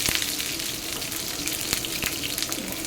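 Onion, dried red chili and chopped ginger fry in hot oil for a dal tempering, giving a steady close sizzle with a few sharp crackles and pops and no voices.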